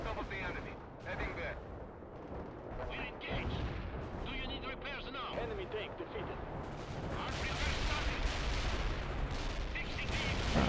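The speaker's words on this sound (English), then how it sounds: "Artillery's coming in" Artillery barrages and gunfire from the war strategy game World in Conflict rumble continuously, with dense booms and crackling shots that swell louder toward the end, under someone talking.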